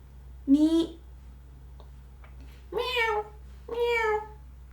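A human voice imitates a kitten meowing, making three drawn-out, rising and falling meows spaced across a few seconds, close and clear over a faint steady hum.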